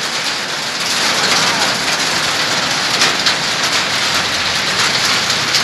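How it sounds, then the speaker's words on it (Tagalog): Heavy rain pours steadily in Tagaytay, a dense, continuous hiss of drops striking surfaces that stays loud and even throughout without any break. "Ayun, umulan dito sa Tagaytay."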